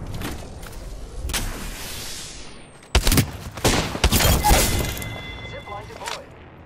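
Gunfire in Apex Legends, a cluster of sharp shots and cracks arriving in quick bursts after a quieter stretch, close and loud amid game effects, with a voice speaking in the background.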